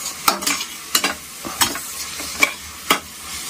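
Mutton biryani ingredients being sautéed in ghee, with a steady low sizzle broken by several sharp scraping stirs of a spoon against the pan at irregular intervals, close and fairly loud.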